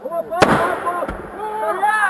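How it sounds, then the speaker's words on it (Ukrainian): Two sharp gunshots from a group of men opening fire in a brawl, about half a second apart, ring out over a busy, noisy background with voices and echoing clatter. "Група чоловіків відкриває вогонь"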